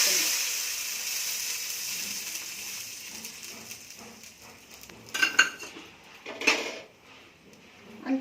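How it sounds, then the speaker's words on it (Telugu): Hot tempering of mustard seeds, curry leaves and dried red chilies poured into moong dal curry, with a soft hiss and then a few clattering scrapes of stirring in the pan, fairly quiet. "ఇందులోకి పోపు పెట్టుకుందాం."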